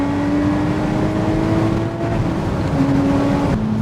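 A Porsche 981 Boxster Spyder accelerates with a steady, close engine drone, its pitch holding and stepping slightly as the car pulls, with no talk over it.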